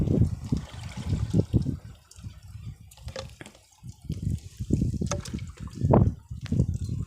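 Water is poured into a pesticide mixture in a sprayer pump tank on a farm, gurgling and splashing in uneven surges with brief pauses, close and moderately loud.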